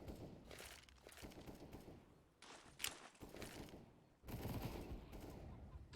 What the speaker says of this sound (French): Ça tire dans banane.